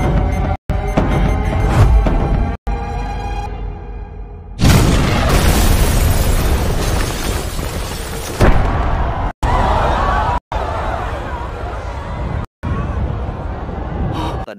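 A bomb hidden inside an aquarium detonates in a film scene at a crowded public venue: a loud, close broadband blast with a long, roaring tail, followed by chaotic noise and brief cuts to silence.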